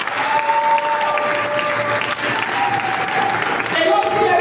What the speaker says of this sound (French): Est-ce qu'on peut applaudir pour Dieu?